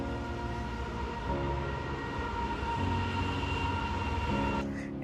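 Great Northern Railway train rumbling right past the Belton Chalet hotel near Glacier National Park, a steady close droning roll with ringing tonal hum, holding even loudness throughout.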